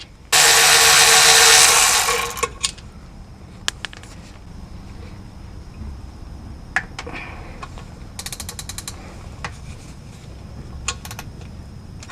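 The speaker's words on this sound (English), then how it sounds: "I use an impact drill, faster for me." A short, loud burst from an impact drill runs for about two seconds during a 2014 Honda Civic CVT transmission replacement, followed by scattered metallic clicks and rattles from tools being handled nearby.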